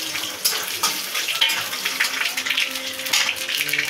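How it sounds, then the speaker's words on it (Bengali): Dry red chillies, bay leaves and five-spice seeds sizzle and crackle in hot oil, a steady close frying hiss with bursts of popping throughout. "দিলাম আমি যে 3টে শুকনো লঙ্কা, 2টো তেজপাতা আর 5 ফোড়নটা, এটা আমি তেলের উপরে দিয়ে দিলাম।"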